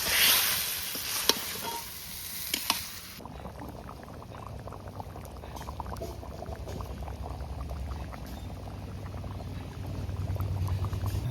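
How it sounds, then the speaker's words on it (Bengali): Taro curry gravy, thinned with ground dried-chilli water, bubbles at a steady boil in a pot, a continuous soft gurgle with a few sharper clicks early on and no talking. "ঝোল সুন্দর ফুটে গেছে"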